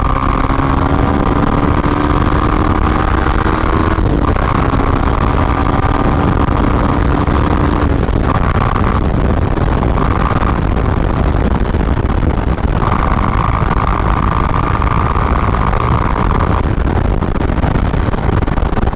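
Yamaha R15 V3 sport motorcycle with about 31,000 km on it, riding along a national highway, its engine droning steadily and loudly throughout, pitch dipping and rising with gear changes over constant wind rush.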